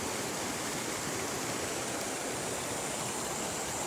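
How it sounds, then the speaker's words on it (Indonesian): A small waterfall at Air Terjun Seribu Bidadari gives off a dense, unbroken roar of falling water, steady and fairly loud throughout, with no voices. "ini ada lagi air terjunnya ini"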